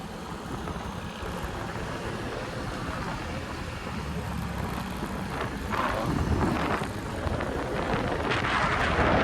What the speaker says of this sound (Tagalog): may hangin din, Chu.